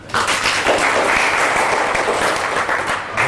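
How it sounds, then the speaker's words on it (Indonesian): An audience applauds two speakers at an Indonesian artists' gathering: dense, loud, sustained clapping that starts abruptly and holds steady throughout, with no speech over it. "dan aplaus untuk dua pembicara"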